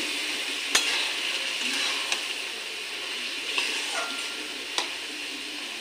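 Tomato chutney with palm jaggery is stirred in a pan over low heat, a soft steady sizzle broken by four or five sharp clinks of a spoon against the pan, close and with no voices.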